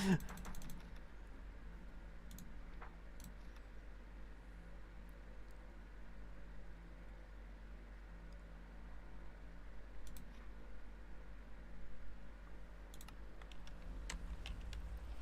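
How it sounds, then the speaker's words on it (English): Rapid, quiet clicks of a mouse or keys come from a Minecraft game session, tapping in quick irregular bursts over a faint steady hum, with no talking. "Gonna have to spam click to get back."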